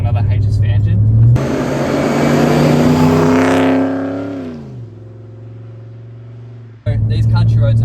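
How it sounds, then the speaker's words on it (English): A Holden VS Commodore with an HSV 185i V8, Gilmore drives and HSV extractors revs up loudly with a rising whine, holds a strained note, then eases into a lower steady drone before another burst of revving. "the engine has Gilmore drives, which sound whiny and just sound absolutely mint"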